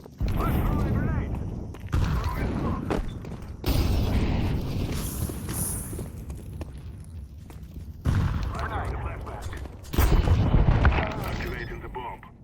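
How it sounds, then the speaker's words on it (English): Grenade and Molotov explosions in the CS2 shooter, several loud bursts and crackling booms in separate waves with mechanical clatter between them, close and heavy. "Throwing a Molotov. Let's throw a grenade."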